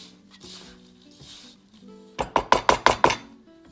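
Dandelion fritter batter is mixed in a bowl. After a quiet start come five quick, evenly spaced scraping strokes near the end, each sharp and close.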